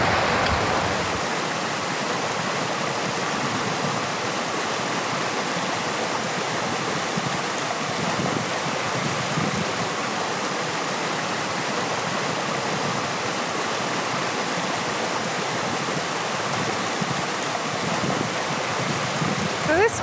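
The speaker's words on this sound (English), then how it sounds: "The stream just here lines up well with the waterfall above" A mountain stream and waterfall in the Alps rush with a steady, broad wash of water noise that stays loud and constant from start to end, with no talk over it.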